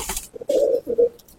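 Rampuri pigeons cooing close by, a few soft throaty coos in short bursts with brief pauses between them.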